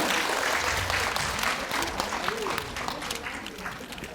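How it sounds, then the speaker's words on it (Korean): An audience at a Korean forum and general meeting applauds a lecturer being introduced, a dense burst of clapping that gradually thins and fades over a few seconds. "큰 박수 부탁드립니다."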